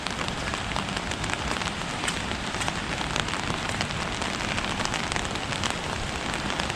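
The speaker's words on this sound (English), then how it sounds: "this rain is steady. It's not very strong" Steady, moderate rain falls on a city street in Bangkok's Nana area, a dense, even hiss of drops pattering on pavement close by, with no voices.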